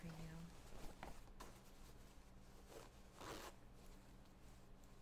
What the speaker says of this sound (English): let me just zip these up for you.